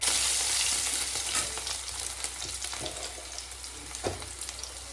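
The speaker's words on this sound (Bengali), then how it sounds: "অপূর্ব সুন্দর ভাজা হয়েছে" Leafy greens sizzle and crackle steadily in hot oil in a pan, with a close, continuous frying hiss and a few brief pops, and no talking.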